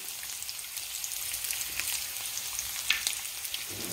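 Pork tocino frying in a pan, a steady soft hissing sizzle with scattered small pops and crackles, fairly quiet and close, with no talking.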